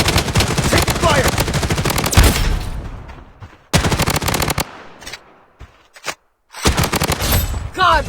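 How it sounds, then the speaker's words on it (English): Automatic gunfire in the mobile and PC shooter BloodStrike, loud rapid machine-gun bursts separated by short quiet gaps, near and punchy, with brief game announcer voice lines between. "Taking fire."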